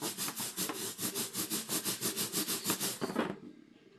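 A tube is rubbed quickly back and forth to build up heat, producing about fifteen rhythmic scraping strokes close by before the rubbing stops and only faint room noise remains.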